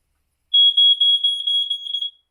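A high-pitched electronic smoke alarm, set off for a home fire drill, beeps in rapid repeated pulses for about two seconds, loud and steady, with nothing else audible.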